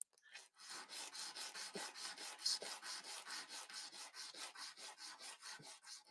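Bronze knife surface being scuffed with rapid, regular back-and-forth rasping strokes, close and fairly quiet, about a dozen strokes in steady rhythm, with no talking.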